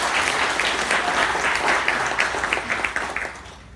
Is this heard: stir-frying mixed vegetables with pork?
no